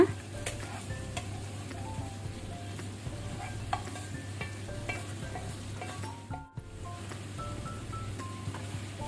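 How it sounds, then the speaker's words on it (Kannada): Chicken tadka tempering sizzling in a pan while being stirred, a soft continuous fry with scattered scraping stir strokes, fairly quiet and close. "ಈಗ ನಾವು ಮೇಲಿನಿಂದ ತಡ್ಕ ಒಗ್ಗರಣೆ ಹಾಕೋಣ."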